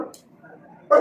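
A single short dog bark rings out at the end after a brief faint yip, close and fairly loud.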